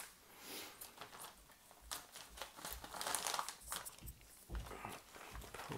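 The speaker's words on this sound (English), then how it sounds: "grab the chassis bag. That's this over here. And we'll go ahead and cut this open." Crinkling plastic rustles close by as a bag of RC short course truck chassis parts is cut open, with irregular soft crackles and handling noises.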